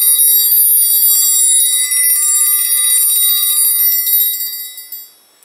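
A metal triangle in a percussion lesson, struck in a fast corner roll: a bright, sustained shimmering ring held steadily for about five seconds, then damped and cut off, close and alone.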